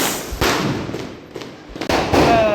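Diwali firecrackers go off outdoors in a string of sharp bangs and crackling bursts, several loud explosions spaced irregularly over a couple of seconds.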